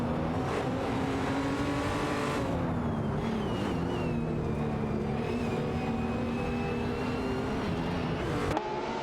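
Race cars in a video game, among them a Nissan GT-R Nismo, roar continuously with layered engine tones rising and shifting as they battle closely, a steady loud din with no talk.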